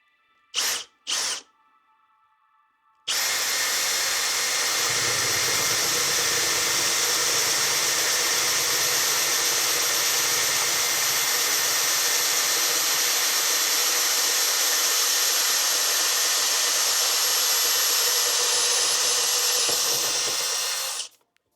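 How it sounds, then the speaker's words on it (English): A power tool whines loudly and steadily for about eighteen seconds, trimming the burr from a new fitting for a BMW R1300 GS, preceded by two brief bursts and then cutting off abruptly. "And again, just nicely trim the burr out."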